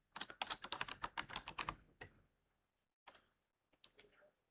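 Typing on a computer keyboard: a quick run of crisp key clicks, close and clear, then a pause and two short bursts of keystrokes in an otherwise quiet room.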